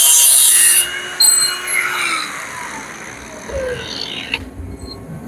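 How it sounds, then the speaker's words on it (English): A wrench being cut shorter with a tool gives a harsh rasping, rubbing grind near the start, followed by quieter intermittent scraping and mechanical clinks. "did you just cut your wrench?"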